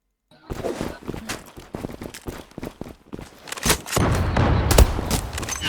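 Gunfire in the competitive shooter Zula, including sniper rifle shots, cracks out as a rapid run of sharp, loud reports, with a denser, heavier burst of fire near the end.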